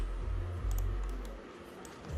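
A few light key presses on a computer keyboard during software setup, faint soft clicks over a low steady hum with no one talking.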